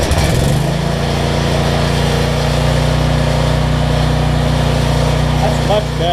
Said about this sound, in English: This thing always got to choke it to get it cranked.